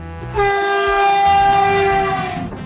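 A train horn blares in one long steady tone over the rumble of a moving train, loud and close.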